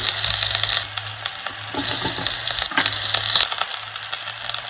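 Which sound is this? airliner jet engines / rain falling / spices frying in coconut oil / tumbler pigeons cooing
spices frying in coconut oil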